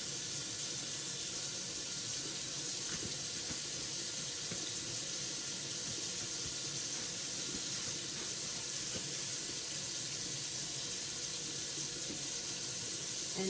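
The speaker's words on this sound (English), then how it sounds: "turn off the faucet" Water running steadily from a sink faucet during handwashing, a continuous close hiss and splash with no talking.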